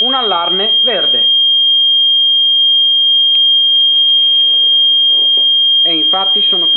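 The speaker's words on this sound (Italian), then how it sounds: "E subito dopo chiamano per un allarme verde." Software alarm tone from an emergency dispatch system, a steady high electronic signal sounding continuously throughout, with someone speaking over it at the start and end.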